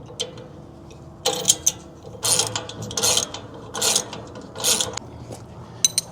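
Bolts being tightened on a bike rack during assembly, heard as bursts of ratcheting and metallic scraping in short repeated strokes with brief pauses between them.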